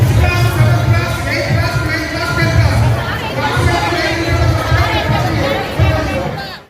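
Large crowd gathered for government school admissions, a dense, steady babble of many voices close by, with individual speech rising out of the hubbub throughout.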